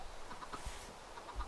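A chicken in the video game Minecraft gives soft, faint clucks, a few short notes over quiet background hum, with no voices.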